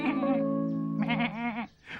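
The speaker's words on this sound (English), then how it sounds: "Then Birch had to explain how he'd found the baby goat" A baby goat in a Sylvanian Families story gives a sustained, wavering bleat lasting about two seconds, loud and close, breaking off briefly before a shorter final cry.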